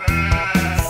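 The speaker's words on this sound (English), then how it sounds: "Sheep." Sheep bleating in two short, close, wavering calls, one right after the other, clear with nothing else behind them.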